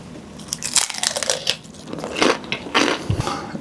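Crispy baked meat börek (etli kömbe) with about nine thin layers is bitten and chewed close up, giving a run of loud, crackly crunches with no speech.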